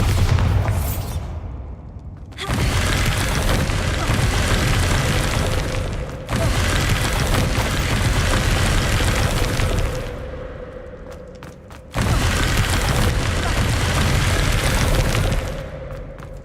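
Bombarda spell explosions in the Hogwarts Legacy game: three heavy booming blasts, each rolling on for a few seconds before dying away, loud and close with short gaps between them.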